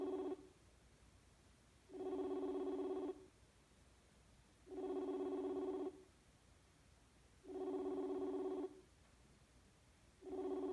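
A phone call rings out over a computer line during a live online summit, with five evenly spaced electronic ring bursts separated by short silences, clear and alone.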